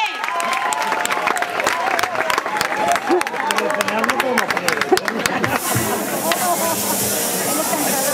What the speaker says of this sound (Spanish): ¡Aplausos y de pie!